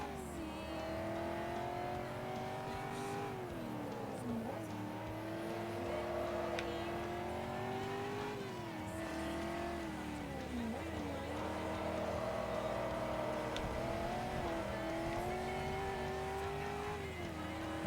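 A race car in Forza Motorsport 3 holds a steady, sustained engine drone, rising and dipping in pitch as it revs through corners and whips its rear end around in a drift, with no pauses throughout.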